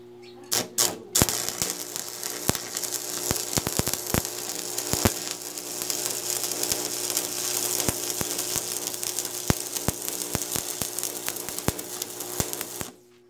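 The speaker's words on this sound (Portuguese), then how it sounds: "acabei de soldar aqui, eu só soldei de um lado" Welding on a metal hub piece for a spoked wheel on a home-built articulated tractor, a steady frying crackle peppered with sharp pops and snaps, close and fairly loud, with no talking.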